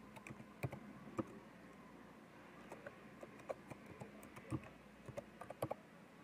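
Quiet, close typing on a computer keyboard: irregular light clicks and taps in short bursts against a faint background hum, with no speech.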